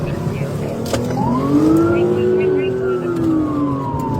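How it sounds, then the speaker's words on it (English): A police car siren wails in rising and falling sweeps during a pursuit, heard from inside the patrol car over steady road and engine rumble, with radio chatter and voices underneath. "Turn my light sirens on."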